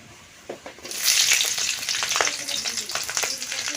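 Green chilies drop into hot oil for a Bengali pui shak chorchori: quiet at first, then a sudden loud sizzle bursts up and keeps crackling steadily close by.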